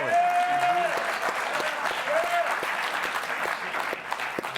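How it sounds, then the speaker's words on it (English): A studio audience breaks into loud applause, a dense, sustained wash of clapping with someone speaking over the opening and again briefly mid-way. "At this point, I needed that applause"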